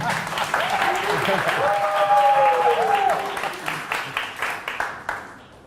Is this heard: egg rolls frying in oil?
no